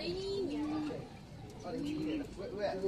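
A racing pigeon in a loft in Pandi, Bulacan coos in soft, drawn-out low calls, two clear phrases heard close by, with quiet background voices and loft noise.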